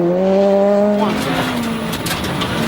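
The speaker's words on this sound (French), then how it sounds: "Robert Consani, le Français, sa Renault Clio R3, 3e dans la catégorie de roues motrices" A Renault Clio R3 rally car races past on a San Marino rally stage, its engine loud and close, the pitch dropping sharply as it goes by. Tyres scrub faintly beneath the roar.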